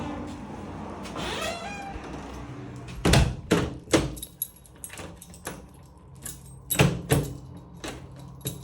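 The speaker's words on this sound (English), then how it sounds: "So the door opens fine with no concern." A house door being opened, with sharp clicks and clunks of the handle, latch and lock, plus a jingle of keys, all close and distinct against a quiet room.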